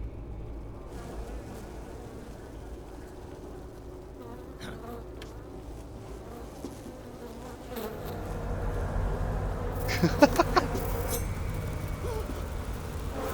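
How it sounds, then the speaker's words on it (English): Swarm of hornets buzzing in the Metal Gear Solid Delta jungle, a steady droning hum that swells louder in the second half, with a few brief sharp accents near the end. "Hornets."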